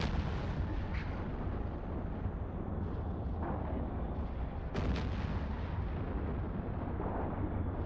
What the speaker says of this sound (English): Missiles, rockets for me for the win. I love rockets and missiles and all that.